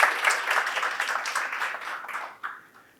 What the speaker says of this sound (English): Another round of applause for Roxane and Peter from FCB New York.